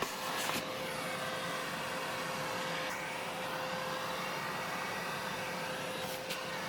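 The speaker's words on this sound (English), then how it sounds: "Cleaning is easily done with a vacuum cleaner." A vacuum cleaner drones steadily while cleaning a Bambu Lab H2D 3D printer and its filter area, a continuous moderate whine with a few brief knocks as the nozzle bumps parts, no voices.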